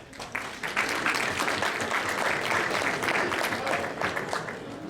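A banquet-hall audience at a basketball awards dinner claps steadily for about five seconds, a dense, even patter of many hands without pause, with faint murmuring underneath.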